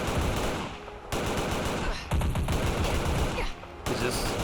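Modded heavy-calibre weapons firing in Fallout 4, rapid loud automatic bursts in several sustained volleys separated by brief gaps, close and dense.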